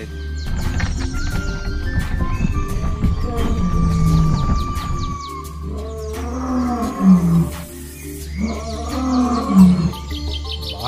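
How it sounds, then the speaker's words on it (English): A lion roars in long, deep, throaty bursts, loud and close, first as a sustained rumbling roar and then as two shorter grunting roars with no one speaking. "A lion."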